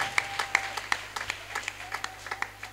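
A church congregation claps together in a quick, steady rhythm of sharp hand claps, fairly close and moderately loud, with a faint sustained tone underneath.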